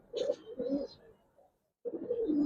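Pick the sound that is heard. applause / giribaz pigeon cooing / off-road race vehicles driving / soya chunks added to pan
giribaz pigeon cooing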